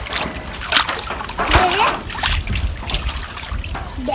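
A fish thrashes and splashes in water as it is caught by hand, with choppy splatters and trickling close by and excited voices talking over the commotion.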